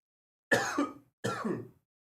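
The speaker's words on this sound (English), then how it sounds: "Coughing up a lung." Two harsh, throaty coughs come close together, loud and close, with silence before and after.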